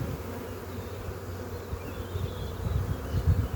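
Honey bees swarm around an open hive frame during a hive split, a dense close buzzing hum that continues without a break and swells slightly toward the end.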